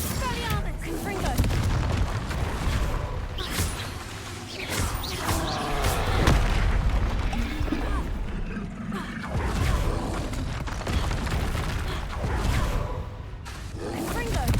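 Confringo blasting spells explode in Hogwarts Legacy as repeated booms and whooshes amid combat noise, with a voice talking throughout.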